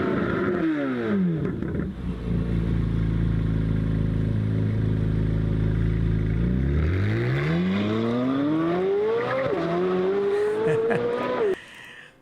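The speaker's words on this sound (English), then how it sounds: "I know this is an aftermarket exhaust, but this is just the engine." A sports car engine breathing through an aftermarket exhaust blips and drops to a deep, rumbling idle, then revs steadily higher in a long climbing sweep before cutting off, loud and close throughout.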